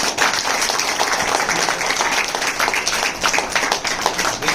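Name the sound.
audience applause for a cartoonist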